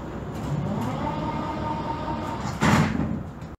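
A Prague metro 81-71M train, with steady carriage rumble and a loud burst partway through as the sliding doors close, then the rumble carries on.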